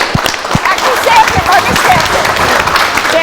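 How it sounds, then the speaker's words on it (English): Audience applause at a pizza contest awards stage, steady dense clapping for about three seconds with cheering voices and talk mixed in over it. "Okay, round of applause."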